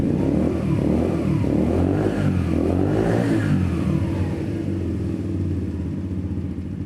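A Yamasaki YM50 RE 50cc scooter engine revs up loud and close, rising and falling in a few throttle blips before settling into a steady drone.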